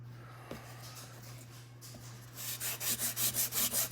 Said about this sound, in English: you gotta rub the grit off of it.